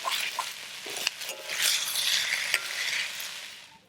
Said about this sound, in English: Now we shall stir it over a high flame.